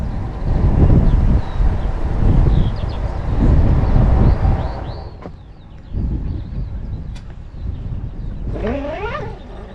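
Wind blows against a canal boat on the Ashby canal, a loud, gusting rumble that swells and eases across the whole stretch, with faint squeaky cries near the end.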